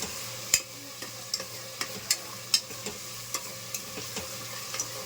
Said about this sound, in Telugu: అడుగు పట్టకుండా వేయించుకోండి.